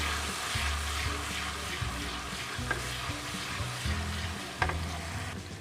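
Steady frying sizzle of garlic ginger paste in a pan with occasional stirring and scraping, a constant hiss throughout and a couple of sharper clinks.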